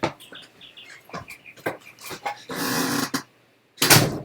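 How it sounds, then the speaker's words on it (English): Birds outside chirp and call in quick, irregular bursts, with some louder broadband bursts in between, fairly close and with no talking. "My birds are making too much noise."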